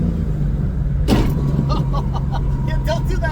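Coyote-swapped GT500 with a T56 gearbox holds a steady low engine drone, broken by one sharp grinding clash as a downshift is forced without the clutch, then faint whining tones while the engine keeps running.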